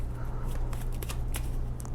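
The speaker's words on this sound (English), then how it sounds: "I don't usually shuffle this long" Tarot cards are shuffled steadily, a continuous papery riffling with light snaps, close and alone over a low steady hum.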